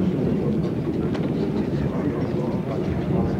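Train rolling along rails in wartime France, a dense, steady low rumble that goes on without a break, with a voice speaking over it.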